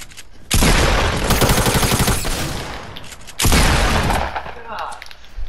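Two loud bursts of rapid, heavy hand cannon gunfire in a video game, the first lasting over two seconds and the second shorter, with crackling impacts and a voice under the shots.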